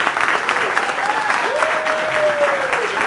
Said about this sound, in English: So everybody give a big round of applause for Sherrie from auction.com.